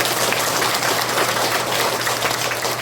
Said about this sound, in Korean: 다시 한번 박수 쳐주세요